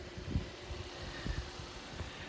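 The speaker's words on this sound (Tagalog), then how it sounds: "Ini-start ko na ho yung sasakyan" A car engine running at a low idle, steady rumbling with faint rhythmic pulses, moderately quiet and close by with no talking.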